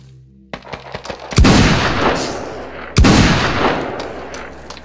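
Loud gunfire in a video game PvP arena: a few quick clicks, then two heavy booming shots about a second and a half apart, each followed by a long rumbling tail.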